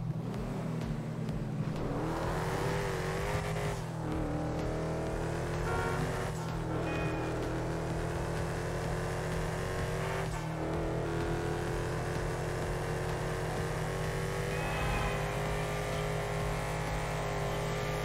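A car engine in GTA V Online revving repeatedly through gear changes, rising and dropping in pitch over a steady low drone, loud and continuous with no talk.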